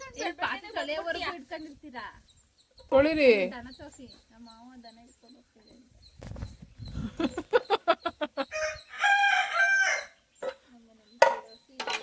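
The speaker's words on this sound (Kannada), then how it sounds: "ಆ ಕೋಳಿ ಅಂತ ರಾತ್ರಿ ಎರಡ್ ಗಂಟೆಗೆಲ್ಲ ಸ್ಟಾರ್ಟ್ ಮಾಡ್ಕೊತೇವೆ ಕೂಗಕ್ಕೆ" A rooster at a rural home crows several times over about twelve seconds, with clucking between the calls. A person talks over it at moderate loudness.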